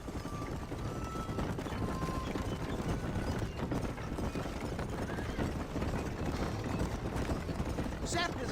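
Horse hooves in Red Dead Redemption clip-clop in a steady, quick rhythm throughout, close and prominent, with a faint voice now and then underneath.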